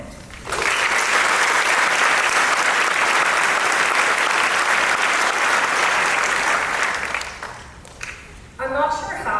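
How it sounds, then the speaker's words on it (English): A graduation audience gives a sustained round of applause, loud and even from the start, then thinning toward the end before a voice begins speaking. "let's give a round of applause to celebrate this moment"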